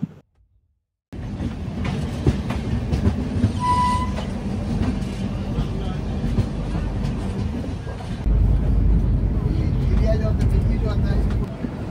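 Samaleswari Express passenger train rolling along the rails at night, a steady loud rumble with rattling carriages throughout, growing heavier near the end after a brief silent start, with some voices faintly mixed in.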